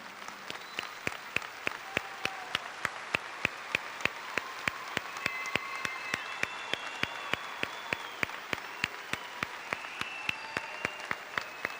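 A large audience at a high school graduation ceremony stands and applauds a family. Dense, sustained applause fills the hall, with sharper rhythmic claps standing out through the whole stretch.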